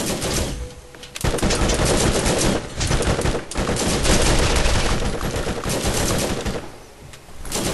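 Rapid, loud gunfire in Borderlands, with sustained bursts of automatic shots, brief pauses and close crackling reports throughout, with little talking.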